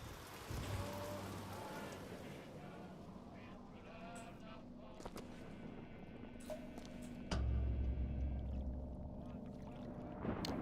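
Steady rainfall fills a scene in the video game Bioshock Infinite, a continuous wash of patter with a heavier surge partway through and no talking.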